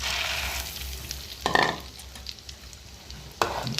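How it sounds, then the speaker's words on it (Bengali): Peanuts frying in hot oil in a pan, a steady hiss with a few louder stirring clatters, close and without talk. "এবার বাদামগুলো ভেজে নেব।"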